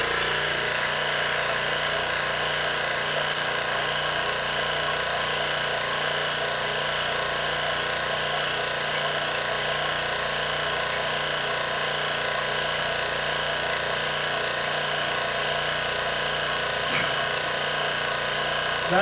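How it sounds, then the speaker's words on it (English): Vacuum pump running steadily for vacuum veneering in a workshop, a constant buzzing mechanical hum with no breaks. "Turn it on. You'll hear the pump come on in a minute."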